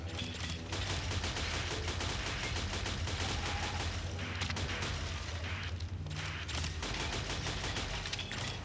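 Sustained automatic gunfire in the sci-fi shooter game Shadowgun Legends, a continuous loud stream of rapid shots and booms with brief dips, no talk.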